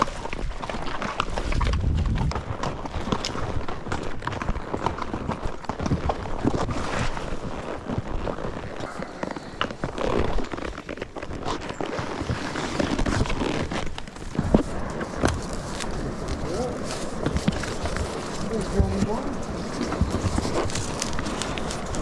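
Horses walking along a Wyoming wilderness trail, hooves clip-clopping in a steady uneven rhythm close by, with wind and rustling underneath throughout.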